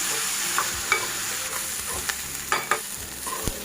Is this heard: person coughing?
no